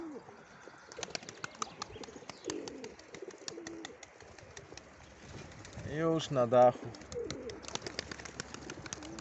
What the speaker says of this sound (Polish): Bardzo fajny gołąb.